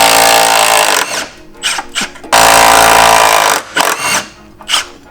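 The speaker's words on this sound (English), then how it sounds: "We've got a couple bolts to bust off." An impact-style power tool breaks loose 21-year-old bolts on the rear braces of a Subaru WRX, firing loud rattling bursts with short gaps and quieter clatter between them, close by.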